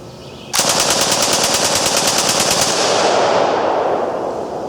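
An Ultimax machine gun fired from the shoulder rips through a 20-round magazine in one loud, rapid, continuous burst lasting about two seconds, followed by a fading echo and ringing ambience.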